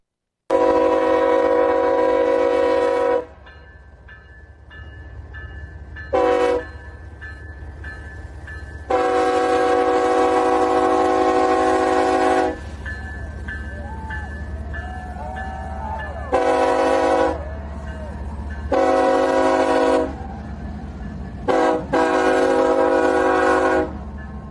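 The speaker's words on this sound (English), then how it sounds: "here's Trump, I guess, on this train coming in. It's a very short train, obviously, with 4 locomotives" A very short BNSF freight train led by three locomotives rolls in, its loud horn sounding in several long and short blasts between stretches of rumbling engines and wheel noise.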